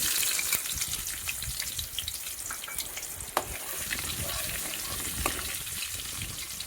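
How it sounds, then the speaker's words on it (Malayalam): Small onions frying with popping mustard seeds in hot coconut oil for sambar give a continuous crackling sizzle with occasional sharp pops, moderately loud and close, with no talking. "കടുക് പൊട്ടി വരുമ്പോൾ കുറച്ച് ചെറിയ ഉള്ളി ഇട്ട് കൊടുക്കാം"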